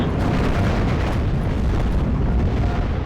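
A Panther tank blows up after being hit in the Normandy 1944 wargame Steel Division, with a dense, sustained rumbling roar of the explosion filling the whole stretch at steady loudness.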